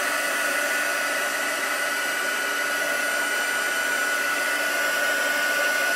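A heat tool dries Stampin' Up! watercolour reinker ink, giving a steady, loud, unbroken blowing whoosh that holds at a constant level throughout with no voices.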